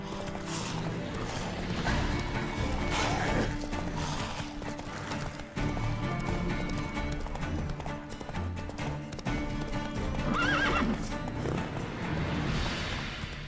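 In The Witcher 3 video game a horse gallops with steady rhythmic clip-clop hoofbeats and neighs once or twice, loud and continuous over game ambience.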